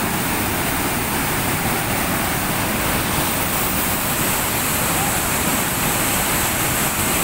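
Water pours through the open gate of Angat Dam in a loud, unbroken roar of dense white rush, steady and close throughout, with no other sound standing out.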